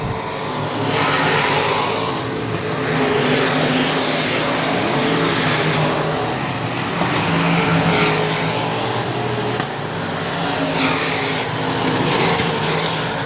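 Race cars run around a track at an All-Star Invitational, with a loud, continuous roar of engines that swells and fades as cars pass and revs rise and fall, and no talk.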